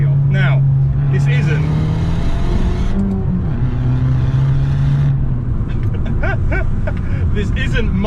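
Abarth 695 70th Anniversario engine rumbles loudly and steadily, holding a droning note that shifts pitch partway through, with someone talking over it throughout.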